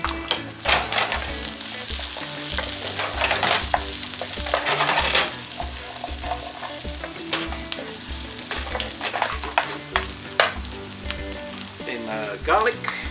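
Chorizo frying in olive oil in a pan, loud continuous sizzling crackle with repeated stirring scrapes and clatters throughout, no voices.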